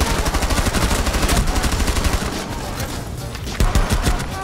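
Close, loud bursts of automatic gunfire from a Rainbow Six Siege match, rapid rattling shots in quick succession that thin briefly and then return with a heavy crack.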